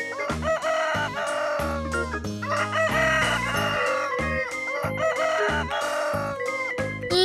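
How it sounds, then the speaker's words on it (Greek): A rooster crows over bright, rhythmic children's music with a steady beat. The call is clear but partly blended into the tune. "Κόκορας."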